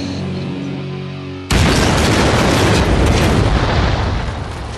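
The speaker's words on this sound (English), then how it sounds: "This is the bang you get from 200 pounds of explosives." Blast of a 200-pound bomb dropped by an F-18 during military pilot training in Canada, a sudden loud boom after a steady engine hum, followed by a sustained rolling roar that slowly fades.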